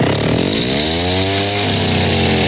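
A chainsaw used as a comedy sound effect in a morgue skit runs loud and steady on its own, with a continuous buzzing whine that rises slightly in pitch.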